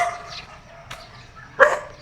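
A dog barks at around 5:30 in the morning on an early walk, a few short sharp barks spaced apart, the last one loudest and closest, with no talking.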